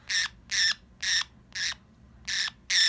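A pet female budgie squawks six times in a steady rhythm, each harsh call about a quarter second long, loud and close with short gaps between them.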